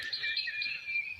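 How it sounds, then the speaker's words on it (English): Birds chirp in a quiet neighborhood, a thin high trill that runs without a break against near-silence. "You hear the birds chirping."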